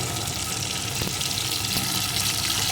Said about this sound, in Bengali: পটলগুলো আমি সুন্দর করে ভেজে নেব